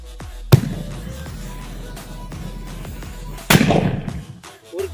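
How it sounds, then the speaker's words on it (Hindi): Two sharp, muffled Diwali firecracker bangs a few seconds apart, set off inside a hole in the ground, the second fuller and rumbling, over quiet outdoor background. "यहाँ पे सेल भी अंदर फटा और डबल साउंड भी अंदर फटा।"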